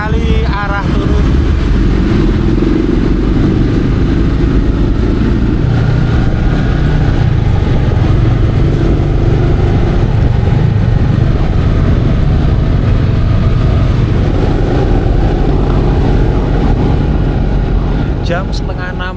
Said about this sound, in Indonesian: Dan ini macet sekali arah turun.